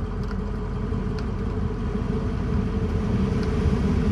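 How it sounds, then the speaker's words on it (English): Steady broadband fan whoosh from the HVAC blower in a 2007 Ford F-250 Lariat with a 6.0L Powerstroke diesel, a continuous even roar inside the cab with the engine droning underneath, no talking. "Here we'll test out all the different blower speeds"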